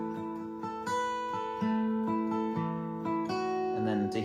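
Acoustic guitar plays the D section of a song, sustained chords ringing with fingerpicked notes changing across several chord shifts, clear and close with no voice over it.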